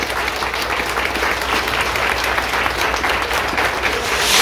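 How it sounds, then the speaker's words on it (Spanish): Strong, steady applause fills the space for Santa Cecilia, patron of musicians, during a Mass held by a carnival band in San Cristóbal Coyotepec, Mexico. It is a dense, continuous clapping from a crowd that swells slightly toward the end. "Vamos a brindarle un fuerte aplauso a nuestra patrona"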